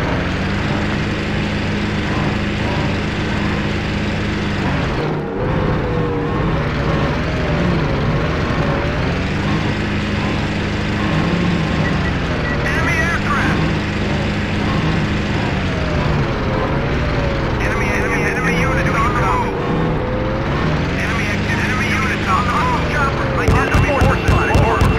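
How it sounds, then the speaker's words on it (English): An enemy helicopter in the video game Battlefield 2 drones with a steady rotor and engine roar that stays loud and continuous throughout, while in-game voice callouts break in now and then. "Enemy unit, chopper!"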